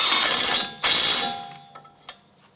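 A ratchet clicks rapidly, snugging the nut onto the lower pinch bolt of a 2001-2007 Ford Escape's control arm, with two bursts of ratcheting followed by a few faint metallic taps and handling sounds.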